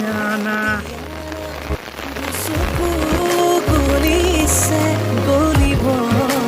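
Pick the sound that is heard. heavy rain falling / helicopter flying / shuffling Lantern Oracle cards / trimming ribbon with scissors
heavy rain falling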